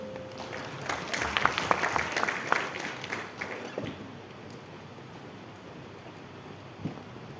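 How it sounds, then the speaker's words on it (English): Applause from a conference audience at a supply chain technology event, a fairly faint wash of clapping that peaks in the first few seconds and then thins out to scattered claps. "Let's welcome him with a huge round of applause."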